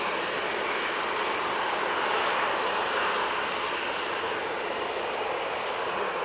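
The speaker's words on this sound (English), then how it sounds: "Right now it's off to Dublin. I'm using the 737-800 for that flight." A Boeing 737-800 bound for Dublin departs from an airport, its jet engines producing a constant hissing, broadband roar at moderate distance, unbroken and without any talk.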